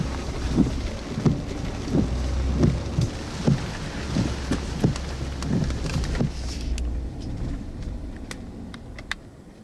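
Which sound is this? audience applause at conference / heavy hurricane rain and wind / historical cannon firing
heavy hurricane rain and wind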